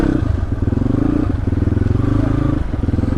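A motorcycle engine chugs loudly and close in a steady, pulsing idle-to-low-rev rhythm on a snowy offroad mountain road at Kalinchowk, with slight clattering.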